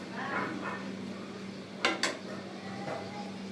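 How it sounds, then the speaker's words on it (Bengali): Vermicelli (semai) with sugar is stirred in a frying pan. A spoon scrapes softly and gives two sharp clinks against the metal pan in quick succession, faint and close. "আপনারা অল্প অল্প করে চিনি দিয়ে সেমাইটাকে লাড়ার উপরে রেখে ভেজে নেবেন"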